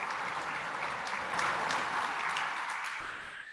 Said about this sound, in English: can we give a great round of applause